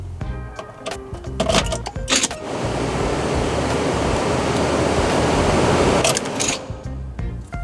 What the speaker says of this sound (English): it should turn on those fans which are part of the Nissan circuit